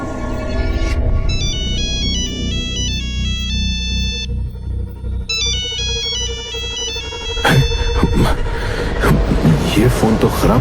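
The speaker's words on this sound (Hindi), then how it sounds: "आनंद बाथरूम का दरवाजा जैसे ही खोलता है वैसे ही फोन की आवाज आनी बंद हो जाती है" A melodic ringtone from a supposedly broken phone plays in two bursts of repeating electronic tones over a low rumbling background, followed by clattering noises.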